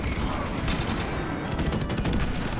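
Rapid gunfire from the XM-LAR rifle in Modern Warfare Remastered, a dense continuous burst of loud, close shots running through the whole stretch with no pauses.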